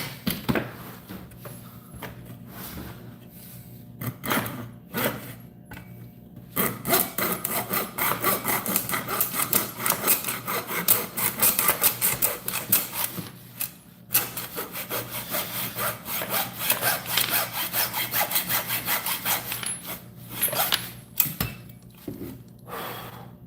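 A hand saw cuts through a wooden board being repaired after a failed frame, the board left unclamped, giving steady rasping back-and-forth strokes that run loud and close for most of the stretch, with brief pauses between bursts of cutting.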